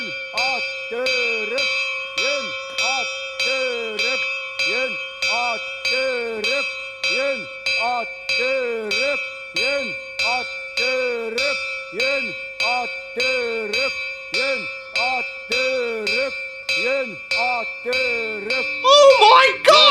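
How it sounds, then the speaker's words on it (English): A bell in a film scene tolls in a steady, even rhythm, one ringing, resonant stroke after another for about twenty seconds, clear and prominent, with a brief burst of other noise at the very end. "he walks to a bell sound"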